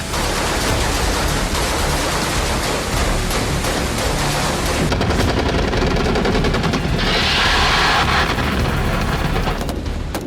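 Machine gun fire in a night firefight between Ukrainian commandos and Russian forces, a dense continuous roar of rapid shots that stays loud throughout with no pauses.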